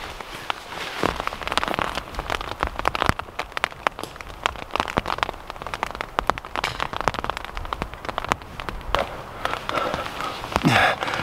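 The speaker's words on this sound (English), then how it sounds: "Can you hear the rain?" Steady rain pattering on a tent close by, dense irregular drops throughout with a few louder taps and rustles.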